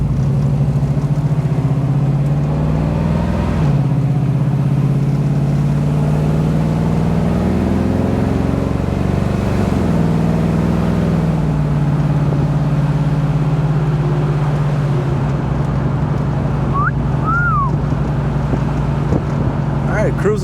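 A 1969 Chevrolet Camaro SS convertible cruises at 40 mph in third gear around 1,500 RPM. Its engine gives a steady, loud, low drone that stays even throughout, with road and wind noise beneath it.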